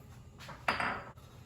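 Garlic, Thai chili and ginger tumble into a pot of seafood broth with a quick soft clatter and a splashy rush lasting about half a second, close and moderately loud.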